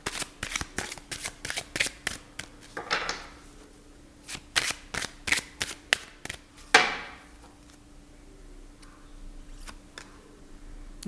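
Tarot cards shuffled by hand, a quick series of crisp riffling snaps and taps close up, then a softer pause and a few final card slaps, with no one talking.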